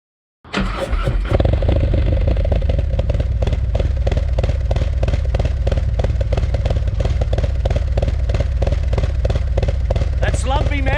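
Harley-Davidson motorcycle engine firing up and settling into a loud, lumpy, uneven idle with a rhythmic thumping beat, close by, with some mechanical clatter throughout and no talk.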